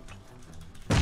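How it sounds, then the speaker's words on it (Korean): A grenade goes off in PUBG, a sudden loud blast near the end after a quiet lead-in. "아 미친 수류탄 계속 던져"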